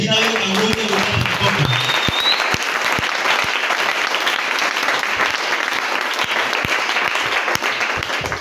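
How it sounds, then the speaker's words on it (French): A church congregation at a Sunday service breaks into loud, dense applause that fills the space steadily. Cheering voices and a rising shout ride over the clapping in the first couple of seconds, then sharp individual claps stand out through the rest. "Si tu bénis Dieu, je veux l'entendre par tes acclamations"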